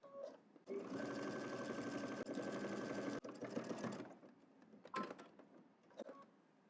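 A sewing machine stitches across a garment hem in a steady whirring burst for about three seconds, then stops and gives a few short, sharp pulses as the stitching finishes.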